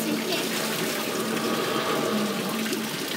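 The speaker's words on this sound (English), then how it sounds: "Do you just stand there waiting for the splashes?" Water pours and splashes heavily from tipping buckets at a sea life centre, a dense continuous rush filling the space, with faint voices and hum in the background.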